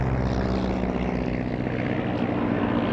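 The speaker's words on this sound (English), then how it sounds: "in front of us now, the de Havilland DH-87B Hornet Moth, leading with DH-85 Leopard Moth." Vintage propeller aircraft, a de Havilland DH-87B Hornet Moth leading a DH-85 Leopard Moth at a Duxford airshow, drone steadily overhead with a continuous loud engine hum and no voices.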